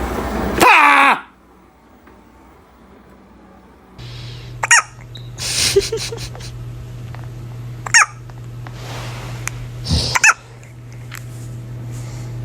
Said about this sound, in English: What was that? Hiccup.